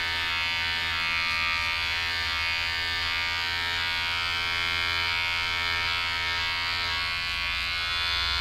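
Electric hair clippers run steadily during a home haircut, giving a loud, close, continuous buzzing hum throughout with no talk.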